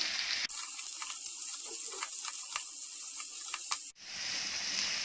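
Cabbage, peas and capsicum stir-fried in a pan give off a steady, close sizzle with a few sharp clinks and scrapes, ending in an abrupt change of sound near the end.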